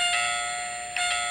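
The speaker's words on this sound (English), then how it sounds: "doorbell." Doorbell sound effect played by a USB sound module triggered by a PIR motion detector, a bright electronic chime with ringing tones, struck once then again about a second later, clear and alone.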